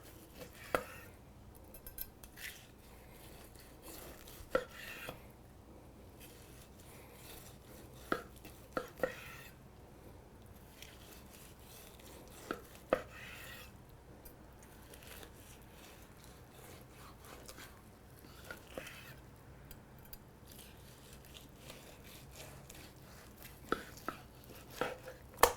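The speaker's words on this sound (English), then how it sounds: "Let's go ahead and get this sliced up." Knife slicing through a smoked prime rib of pork with sticky fat, giving soft, faint scraping cuts and light board taps scattered at an irregular rhythm, close and quiet.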